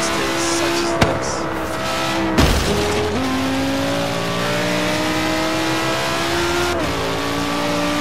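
A big four-wheel-drive car in the racing game Forza Horizon 3 holds a loud, close engine roar with shifting revs and a couple of sharp changes, the steady drone of a burnout with no talk.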